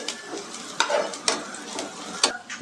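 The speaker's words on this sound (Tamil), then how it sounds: "இந்த வெங்காயம் வந்துட்டு கோல்டன் ப்ரௌன் கலர் ஆகிற வரைக்கும் தேங்காய் எண்ணெய் நல்லா ஃப்ரை பண்ணிக்கலாம்" Onions frying in coconut oil while being stirred, giving a steady close sizzle broken by several sharp scrapes and clatters from the spatula at uneven intervals.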